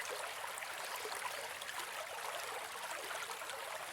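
A flowing river stream gives off a continuous, even rush of water, a soft steady hiss with no breaks and no voices.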